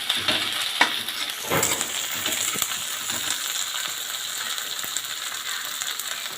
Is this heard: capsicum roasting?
yes